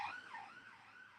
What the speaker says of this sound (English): Just another ambulance is off.